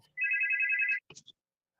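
An electronic phone ringtone announces an incoming call with one short, loud, warbling trill burst, followed by a few faint clicks and then silence.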